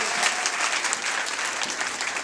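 A church congregation claps loudly and continuously, a dense, steady wash of applause with no pauses across the short stretch.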